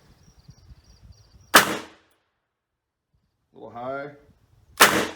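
Two sharp, loud shots from a Smith and Wesson Model 10-6 revolver firing .38 Special at an outdoor range, spaced a few seconds apart, with a short spoken word between them.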